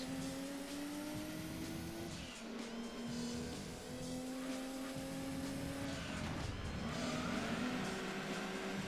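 Race cars accelerate in the video game Gran Turismo 2 with loud, rising engine whines that are broken by gear changes and dips. A faint tire squeal appears near the end, and the engines run continuously with no talking.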